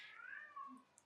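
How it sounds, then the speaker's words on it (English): A house cat gives a single drawn-out meow, close and fairly quiet, indoors with no talking over it. "That's the cat again."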